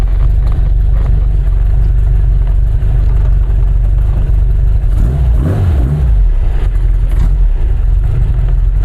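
A 1950s Porsche 550 Spyder on the move makes a loud, steady engine drone with heavy low rumble, swelling in a brief rev midway before settling back.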